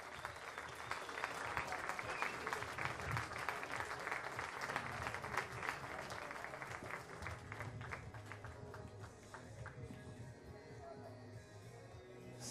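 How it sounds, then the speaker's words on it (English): Audience applause at a junior women's skeet shooting championship final, sustained clapping from a crowd with a voice talking over it on a PA, fading slightly toward the end. "Big applause for them."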